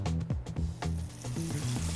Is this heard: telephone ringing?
no